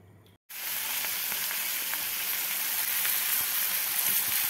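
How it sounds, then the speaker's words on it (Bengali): Dried fish frying in hot oil in a wok gives a loud, steady hiss and crackle. It begins abruptly after a brief quiet moment and continues alone. "মাছগুলো ভাজা হচ্ছে, ভালো করে ভেজে নিতে হবে একটু"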